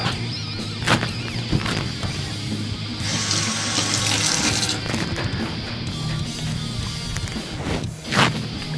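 Chopped fresh strawberries are rinsed under a running kitchen tap for waffle topping, a loud, close, steady stream of water splashing continuously into the sink with occasional thumps and clatters, and no talking.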